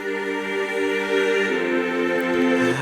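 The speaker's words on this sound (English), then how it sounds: "These are called the London strings." London Strings patch from Nexus sustaining lush, wide chords for a big room EDM track, a dense harmonic wash that shifts to a new chord partway through, loud and alone.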